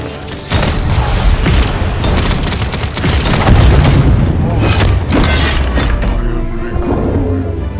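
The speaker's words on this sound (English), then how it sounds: "Enemies are firing on me." Enemy gunfire in the online shooter Paladins, a loud and dense fusillade of rapid shots and booming blasts. It runs continuously with game effects and some voices layered in.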